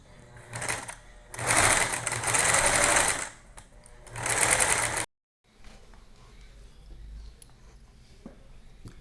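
A sewing machine runs a zigzag stitch while making a fabric sheep, in three loud bursts of rapid motor whir and needle clatter with short pauses between, then stops and leaves only quiet room noise.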